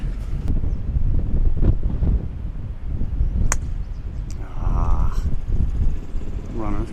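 Strong gusting wind buffets the microphone on a golf course during a match, a continuous low roar with a few faint clicks and distant sounds over it.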